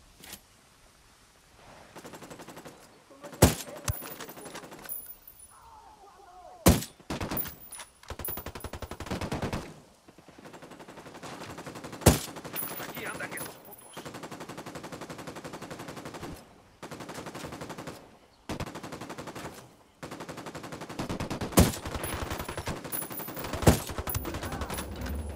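Heavy automatic gunfire from the military shooter Ghost Recon Wildlands rattles in long sustained bursts and sharp single cracks throughout a firefight, loud and close with brief lulls between volleys.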